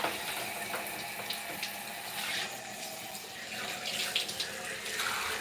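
Water runs steadily from a tap while hair is rinsed under it, a close, continuous splashing hiss with irregular spatters throughout.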